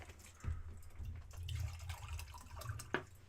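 Water trickling and splashing as a glass is refilled indoors, soft, close and irregular, with a few small drips and clinks and no talking.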